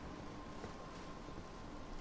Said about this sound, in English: It's very rainy right now, so I can't see too much.